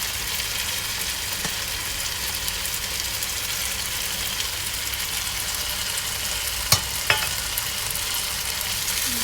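A mint-and-coriander mixture gets stirred through a chicken dum biryani frying in a single pot, giving a steady close sizzle throughout with two brief sharp scrapes of the spoon near the end.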